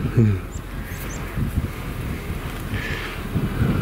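Steady gusting wind roars across the microphone, a broad rumbling buffet that persists throughout, with faint voice-like murmurs underneath.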